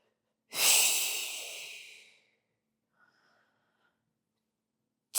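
A single deep, forceful exhale through the nose and mouth during a foam roller Pilates mat workout, loud and close, trailing off over about two seconds, then near silence before another breath begins.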